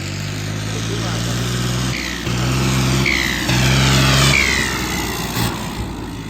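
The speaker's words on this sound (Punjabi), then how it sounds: "ਮੈਂ ਟਰੈਕਟਰ ਭਜਾ ਕੇ ਦੇਖਣਾ" A tractor engine drones loudly and steadily throughout, revving up in a few short surges, with people talking over it.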